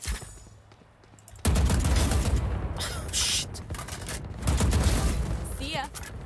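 Gunfire in Valorant: a loud burst of shooting kicks in after a quieter opening, with sustained rapid shots and a second volley later, under intermittent talk from a player.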